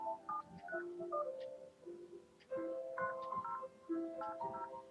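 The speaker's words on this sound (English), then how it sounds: "Okay, you can see I dialed on the phone." Sony SPP-A9 two-line cordless telephone with answering machine being dialed, its keypad giving a quick run of clear DTMF beeps in uneven bursts, several tones per second with short pauses between groups, close and alone.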